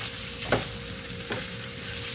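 Butter melting and sizzling in a pan, a steady broad hiss with two brief louder scrapes or clinks, close and alone without talk.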